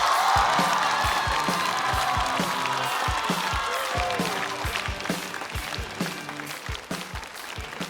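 A studio audience at a Chinese stand-up comedy show claps and cheers to welcome the comedian Heideng, loud sustained applause that slowly thins out into scattered claps.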